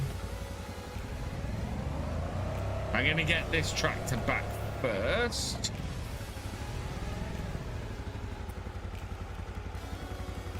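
A tractor in Farming Simulator 25 drives with a steady droning engine and rising, falling revs, plus clattering, under someone talking over gameplay.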